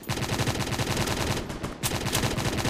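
Rapid machine gun bursts in a shooting video game, a dense continuous rattle of gunfire with a brief pause midway before firing resumes, loud and up close with no talking.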